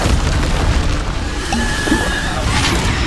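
A Bombarda explosion spell goes off in Hogwarts Legacy combat, a loud, continuous booming blast with rumbling debris and scattered magical whooshes and zaps layered over it throughout.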